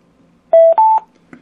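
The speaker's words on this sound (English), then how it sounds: "Get one beep." Bluetooth speaker with a character head beeping as the head is held down for pairing: two loud, close electronic tones in quick succession, the second slightly higher, followed by a faint blip.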